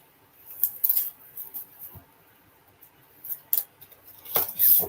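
Scissors cut a fresh sheet of white card stock for a handmade Easter card, giving several crisp snips and rustles at close range with short pauses, no voices.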